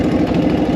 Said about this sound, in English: Idle might be a little high.